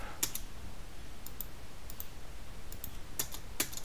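Quiet mouse clicks and enter-key presses while working in AutoCAD, a handful of sharp isolated taps spaced irregularly over a soft background hiss.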